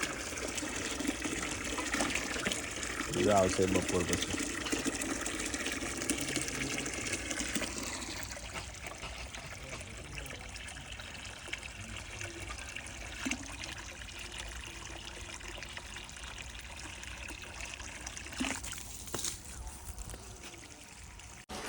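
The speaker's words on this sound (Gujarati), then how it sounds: "બાપુ એ જો પક્ષીઓ માટે પાણી મૂકી દીધું" Water poured out for birds, a close, loud gushing stream for the first several seconds, then softer trickling and splashing that fades into quieter background noise, with a few faint spoken words.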